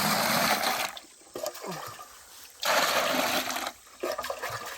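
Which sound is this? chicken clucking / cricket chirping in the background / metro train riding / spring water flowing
spring water flowing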